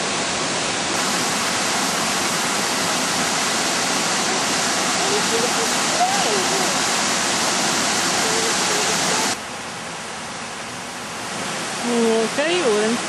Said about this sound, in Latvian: Lūk, arī ūdens kritums no apakšas.